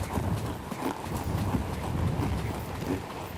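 A horse canters during a fox hunting riding lesson outdoors, and its hoofbeats fall in a steady, rolling three-beat rhythm over muffled wind noise on the microphone.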